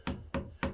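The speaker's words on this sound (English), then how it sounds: "Nah, a brass hammer works. Take the brass hammer." Three sharp metallic taps from a brass hammer striking metal while making a replica seax knife, evenly spaced and close by, each ringing briefly before the next.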